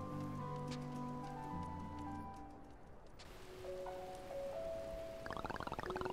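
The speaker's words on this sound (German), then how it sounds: "Oh, jetzt regnet." Rain falling in the video game Black Skylands, a soft continuous hiss under game music and tones, fairly faint with no talk.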